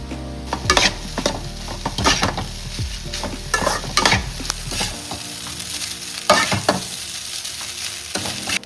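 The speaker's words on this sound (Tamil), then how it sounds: "இப்போ ரைஸ் போட்டுக்கலாங்க. டீ ஸ்பீடாக வச்சு நல்லா கிளறிக்கலாங்க சாதத்துக்கு." Egg fried rice being stirred and tossed in a hot pan on high heat, with steady sizzling and repeated scraping strokes of a spatula at close range, no talking.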